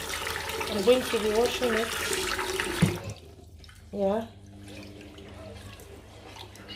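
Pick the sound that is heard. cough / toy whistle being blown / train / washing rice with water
washing rice with water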